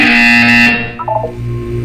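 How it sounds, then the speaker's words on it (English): The Portal 2 video game buzzer sounds as a loud, harsh, sustained buzz for under a second, then cuts off. Faint electronic tones and room ambience follow. "When you hear the buzzer, look up at the ceiling."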